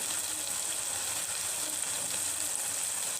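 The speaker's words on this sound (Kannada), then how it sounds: "ಇದೆಲ್ಲ ಸ್ವಲ್ಪ ಫ್ರೈ ಆಗಿಬಿಟ್ಟು ಫ್ರೈ ಆಗಿಬಿಟ್ಟು ಮಿಕ್ಸಿ ಮಾಡ್ತೀನಿ ಮೆಣಸಿನ್ಕಾಯಿ ಹಾಕಿದ್ದೀನಿ ಈರುಳ್ಳಿ ಟಮಾಟಿ" Green chillies, onion and tomato fry in a pan for dosa chutney, giving a dense, even sizzle that holds steady and fairly loud throughout with no talking.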